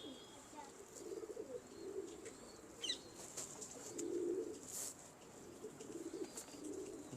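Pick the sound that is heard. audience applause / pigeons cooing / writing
pigeons cooing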